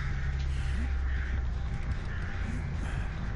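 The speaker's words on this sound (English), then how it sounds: "Birds." Crows cawing in the Dead by Daylight horror game, a few harsh calls rising over a steady loud background of game ambience and low rumble, with no talk.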